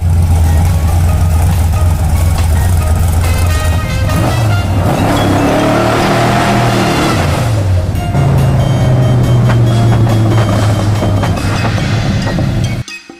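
A project car's engine runs loudly up close, revving and surging through the middle before settling back to a steady rumbling idle, then cutting off abruptly at the end.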